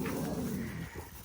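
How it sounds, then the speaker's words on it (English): Cane Corso dogs outdoors, with a loud, close burst of low growly barking and whimpering noise in the first second, then quieter scuffling. "So I'm out here with the dogs."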